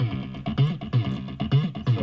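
A heavily distorted synth bass in a dance track plays a short, punchy, repeating riff with gritty, buzzing tone and a pulsing rhythm, loud and up front with no voices.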